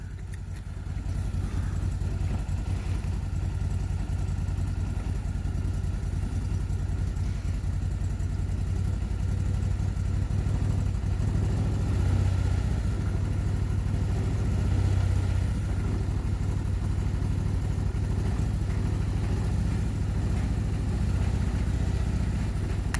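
Vehicle engine running steadily while the vehicle is backed off a trailer, a continuous low rumbling idle that holds fairly even and close throughout, with slight swells in level and no clear talk.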